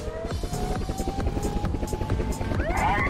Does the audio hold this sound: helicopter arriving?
yes